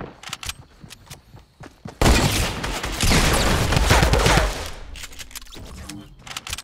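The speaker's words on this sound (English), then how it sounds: "Guided missile, thank you very much." A guided missile fired in the Fortnite video game, its roaring, rumbling blast swelling loudly for about two and a half seconds over quieter game sounds before fading away.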